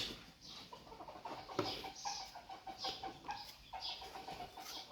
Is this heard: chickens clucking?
yes